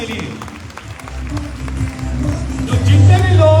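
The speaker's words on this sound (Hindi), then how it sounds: "सो एक बार जोरदार तालियां हमारे सारे न्यू ज्वाइनर्स के लिए।" Auditorium crowd applauding new joiners at a large meeting, a broad wash of clapping mixed with crowd murmur and some deep rumble that swells toward the end.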